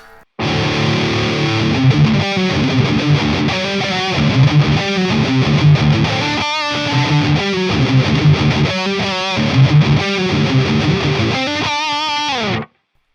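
Electric guitar through the ML Sound Lab Amped CB4 amp plugin, playing loud, thick distorted chords and riffs with rhythmic stops, continuous and close for about twelve seconds, then cutting off abruptly.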